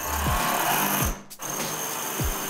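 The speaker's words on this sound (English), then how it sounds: "We are using a masonry bit to drill these holes because we're going directly into the tile" A power drill with a masonry bit bores into bathroom wall tile, a loud steady whine that runs continuously with a brief break midway and repeated low pitch sweeps as the motor revs.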